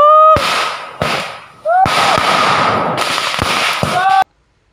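Firecrackers set off to chase away wild elephants in a plantation in East Aceh, several sharp loud bangs at irregular intervals, with shouting voices and crowd noise continuing between the blasts.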